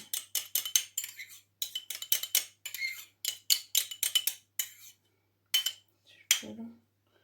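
A metal spoon stirring milk into yogurt in a small bowl, clinking repeatedly against the sides in quick rhythmic bursts, close up, with a couple of short pauses and no talk.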